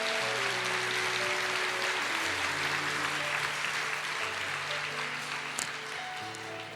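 A church congregation claps in sustained, even applause to the Lord, heard at moderate distance with sustained organ or keyboard chords playing underneath.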